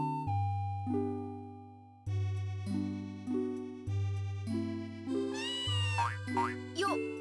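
Cat meows in the Harvest Moon farming game, a few short synthesized mews near the end over a bouncy repeating chiptune-style melody with steady bass notes.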